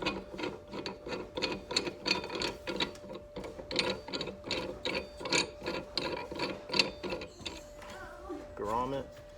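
A clamp on iPad mounting hardware is tightened with a rhythmic series of close ratcheting, rasping turns, about a dozen strokes in quick succession, with a soft voice nearby.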